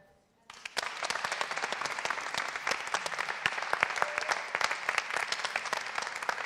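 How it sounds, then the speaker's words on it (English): An audience applauds steadily, dense clapping starting abruptly and holding loud and even for several seconds, close. "shall we send them a big applause?"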